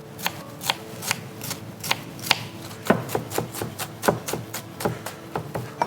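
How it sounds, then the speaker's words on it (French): Shallots are finely chopped with a knife on a board, giving a run of crisp, regular taps, about two or three per second, close and clear. "nous allons ciseler nos échalotes"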